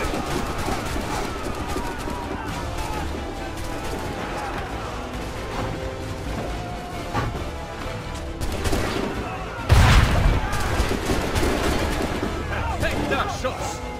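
Gunfire in the video game Assassin's Creed III, dense crackling shots layered over game sound and music, with a louder burst near the end.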